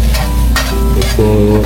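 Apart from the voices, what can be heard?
fried rice stir-frying in a pan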